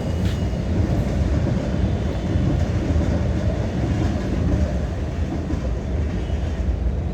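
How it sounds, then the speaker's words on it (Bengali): A Kolkata metro train crossing a river rumbles past in a loud, continuous roar with faint rhythmic wheel clatter and no voices. "এই যে মেট্রো যাচ্ছে।"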